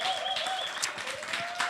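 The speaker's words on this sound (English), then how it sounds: "We're gonna clap to say thank you for." An audience applauds to thank the author at an evening book launch for Jason Allen-Paisant, a steady wash of clapping from many hands throughout.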